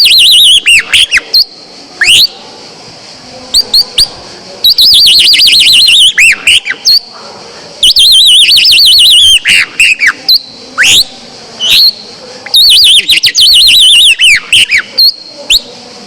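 A person whistles an imitation of chaffinch song, a bird-call performer producing bright, fluttering phrases that end in quick descending flourishes, repeated in several loud, close bursts separated by short pauses.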